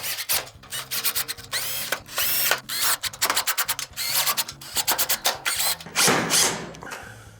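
A hand ratchet drives the screws on a panel of a Whirlpool electric stove under repair, producing close, rhythmic clicking bursts with grinding metallic turns and brief pauses between strokes.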